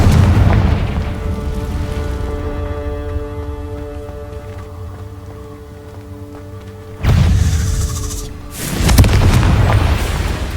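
Confringo explosion spells in Hogwarts Legacy: a loud booming blast that decays into a long ringing tone, then another heavy burst of fiery noise a few seconds later, loud and close, with no talking.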